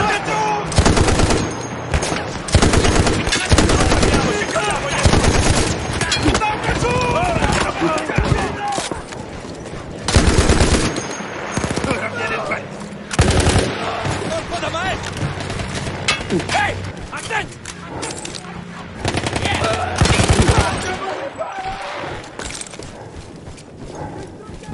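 World War I machine gun in Battlefield 1, manned after removing its Austro-Hungarian crew, fires in loud repeated bursts of rapid shots over a long stretch, with battle noise and voices in between.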